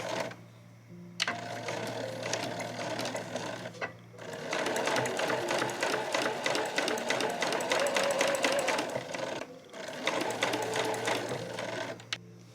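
Sewing machine stitching a straight seam through fabric for a frilled scrunchie, running steadily and close for several seconds at a time, pausing briefly twice before resuming its fast, even motor whir.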